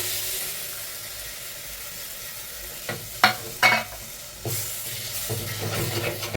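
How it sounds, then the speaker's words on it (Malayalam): Tamarind water being poured into sizzling fried spice masala for a Kerala fish curry: a steady hissing sizzle, then a few loud splashing bursts and a fuller, rougher sizzle as the liquid hits the hot pan. "നമ്മുടെ പുളിവെള്ളം ഒഴിച്ചു കൊടുക്കാം കേട്ടോ"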